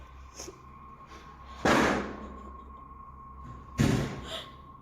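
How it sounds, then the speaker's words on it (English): A door slamming shut in a house during reported poltergeist activity: two loud thuds about two seconds apart, standing out over a steady low hum, with no voices. "the door from the other room has slammed shut again"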